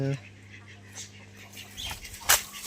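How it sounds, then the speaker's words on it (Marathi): Hens cluck softly in a rural poultry yard, a few scattered calls at moderate distance over faint background noise, with no talking. "इकडे कोंबड्या येतात"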